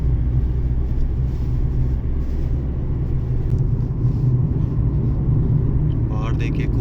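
Vehicles driving on a winding mountain road in India, heard as a steady low engine and road rumble from inside a moving car. The noise continues throughout, with a brief higher sound near the end.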